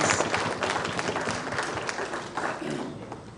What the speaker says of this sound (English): So let's give them all a huge round of applause too